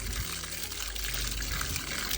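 Water poured onto potted plants at night, a steady splashing trickle that runs close and continuous throughout, with no talking.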